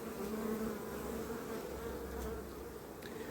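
Honeybees hum steadily around an open brood frame of worker and drone brood during a hive inspection, a dense close buzz with no pauses and no voices.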